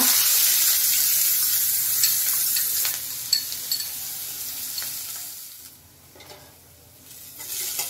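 Onion dropped into hot oil with asafoetida and curry leaves for a Malwani cashew curry, a loud close sizzle that softens and dips midway, then swells again, with a few utensil taps and no voices.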